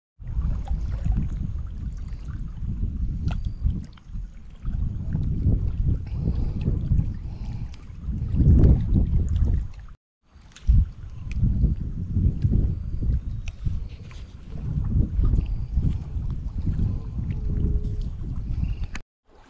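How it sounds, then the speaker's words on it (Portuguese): Strong wind buffeting the microphone on a fishing trip, a steady loud rumbling roar with gusts and a brief break midway, no talking. "tem hora que o vento vem assim, ó, muito forte"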